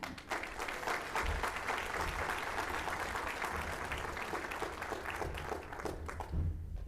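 An audience at an Oklahoma local agriculture event applauds, a soft, fairly distant wash of clapping that holds steady throughout.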